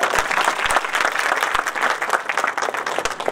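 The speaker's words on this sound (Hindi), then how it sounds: "सर के लिए एक बार पहले जोरदार ताली होनी चाहिए" An audience at a Hindi business-strategy seminar bursts into dense, steady applause that fills the whole stretch. Many hands clap close together with no voices on top.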